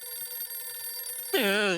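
Telephone ringing in a Hindi comedy scene, a bright warbling ring that starts suddenly near the end after a stretch of steady tonal background, loud and close.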